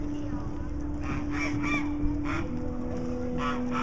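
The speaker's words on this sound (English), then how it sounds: "These are just white geese, right? These are just type of geese." White geese honk in short bursts from close by among other waterfowl, the calls sitting over a steady outdoor background hum; faint voices may be present.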